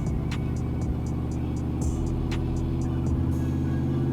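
A cammed 6.0L V8 in an OBS truck runs on a dyno, holding a loud, steady rev with a dense, throbbing exhaust drone and a few sharp ticks above it.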